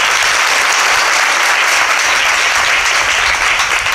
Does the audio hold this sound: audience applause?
yes